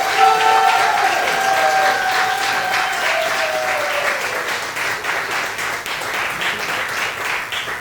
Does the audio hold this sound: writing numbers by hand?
no